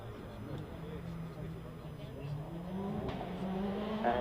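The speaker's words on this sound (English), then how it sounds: "here's John Chalmers now in this car which he built about 4 or 5 years ago now" Hill climb race car built on a Formula 3 chassis drives past at Loton Park, its engine note rising and swelling steadily nearer over a low rumble, with a commentator talking throughout.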